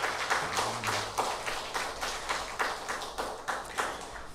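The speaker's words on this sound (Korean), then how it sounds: "성가대원들에게 다시 한번 감사의 박수 하겠습니다" A church congregation applauding the choir during a Sunday worship service, a steady run of clustered hand claps in a roomy hall, moderately loud and without talk.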